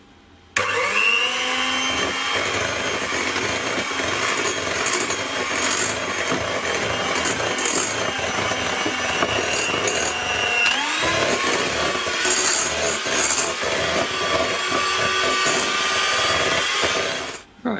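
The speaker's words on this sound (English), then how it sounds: "I'm just going to use a hand mixer because I'll get a better consistency" An electric hand mixer whirs steadily while beating eggnog frosting, a loud continuous motor drone with scraping against the bowl, briefly pausing near the middle before running again until it cuts off.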